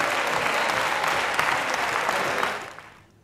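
Dense, sustained applause from a crowd fills the space evenly for a few seconds before tapering off into quiet.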